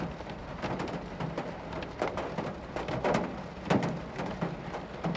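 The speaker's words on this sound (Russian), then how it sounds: "Сейчас на улице дождь, такой ливень." Steady heavy rain drums on the roof and windows of a Chevrolet Cobalt car, heard from inside, a dense continuous hiss with louder patters and spatters scattered throughout, no voices.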